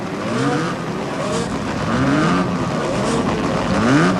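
Race car engines idle and rev together on the starting grid at Symmons Plains in 1986, a loud, close, continuous mechanical drone with rising and falling pitch sweeps and no voices.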